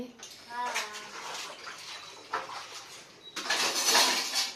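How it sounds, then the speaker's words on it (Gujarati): Dishes being washed under running water, with intermittent splashing and clinking of utensils near the sink, surging louder toward the end, while a voice speaks briefly at the start. "વાસણ ધોવાય છે"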